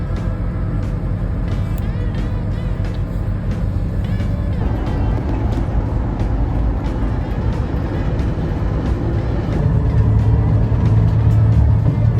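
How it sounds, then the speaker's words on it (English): Inside a moving bus, a steady low engine rumble and road drone continue throughout, with rattles and occasional faint clicks over a constant hum. "On the bus now."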